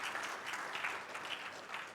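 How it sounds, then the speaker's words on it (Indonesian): A church congregation applauding during a Sunday service, steady dense clapping from many hands in a reverberant room, continuous and fairly even throughout. "Tepuk tangan lagi bagi Tuhan Yesus"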